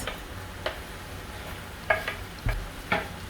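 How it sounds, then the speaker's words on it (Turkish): Tomatoes sauté in a pan for butter chicken, a steady soft sizzle broken by a handful of sharp scraping stirs of a utensil against the pan, close by and with no talk. "Yeniden karıştırıp kavurmaya devam ediyoruz."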